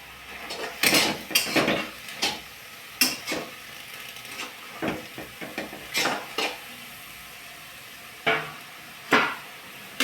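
Chavali leaf vegetable tossed and fried in a pan over a gas flame, with sharp metallic clanks and scrapes of the pan and spoon recurring irregularly over a soft sizzle, close and fairly quiet, with no talking.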